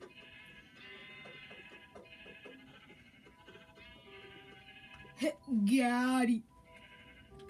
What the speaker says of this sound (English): Why is there so many sheep?